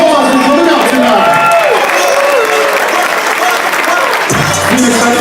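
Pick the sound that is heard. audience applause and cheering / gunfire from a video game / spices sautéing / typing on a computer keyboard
audience applause and cheering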